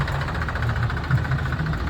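Tractor engines idle in a long queue outside a sugar factory, a steady, dense low rumble with a faint knocking pulse that holds evenly throughout.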